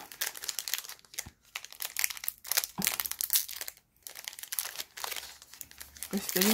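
Foil wrapper of a Pokémon card booster pack being torn and crinkled open, close-up crackling bursts with short pauses, while people talk throughout.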